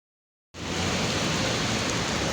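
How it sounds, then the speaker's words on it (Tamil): Heavy rain pours onto a main road, with water spilling down from above, starting abruptly after half a second of silence and continuing as a dense, loud, even hiss with no voices. "மழை பேஞ்சு மேலே பிளேவிலேருந்து தண்ணி விழுவுதுங்க ரோட்டில் மெயின் ரோட்டில்"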